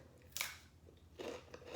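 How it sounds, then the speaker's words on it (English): A crunchy, salty edible piece from an edible campfire snack is broken off and bitten, giving two close, dry crunching bursts separated by a quieter pause. "here I'm gonna break off a little piece and taste."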